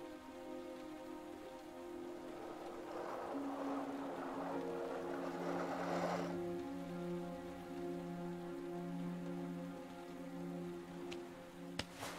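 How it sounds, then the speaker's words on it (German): Steady rain in a video game patters softly on a surface, accompanied by a low sustained tonal hum and a faint swell in the middle. "Nee, es regnet."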